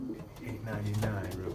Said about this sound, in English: I mean, this is a pigeon.